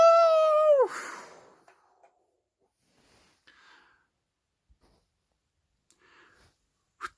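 A single drawn-out meow with a falling, wavering pitch opens the moment, loud and near, followed by faint scattered clicks and near silence; it is the cartoon cat-like snail Gary, likely a voice imitating the sound.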